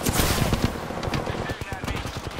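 Rapid automatic gunfire from the Apex Legends video game, dense bursts of close shots overlapping with other game effects and a voice.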